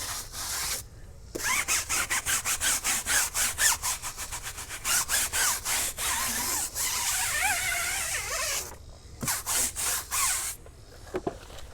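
Stiff-bristled brush scrubbing caked grime off a car tire: quick, rhythmic back-and-forth rasping strokes close up, merging into a continuous scrub midway before breaking into separate strokes again.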